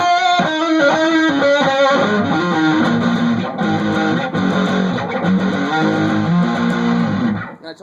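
Heavily distorted electric guitar through a Metal Zone distortion pedal on the bridge pickup plays loud, saturated chords and riffs with a thick, buzzing tone, continuous and alone before ringing out at the end.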